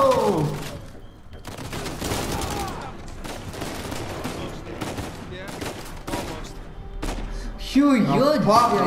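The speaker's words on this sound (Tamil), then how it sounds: "சுடுங்க சுடுங்க சுடுங்க" Gunfire in the video game Uncharted 4 during a jail escape, heard as dense, continuous volleys of shots with thuds and impacts under game music and effects, loud and sustained throughout.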